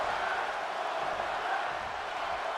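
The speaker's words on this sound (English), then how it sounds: "Crowd chanting one more time." Capacity wrestling crowd at the AWL Arena in Tokyo, Japan roars and chants as one dense, sustained mass of voices, loud and even throughout.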